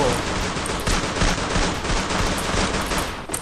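Rapid, dense gunfire from the video game Free Fire during jump-shooting, with shots crackling continuously at close range and a voice talking over the action.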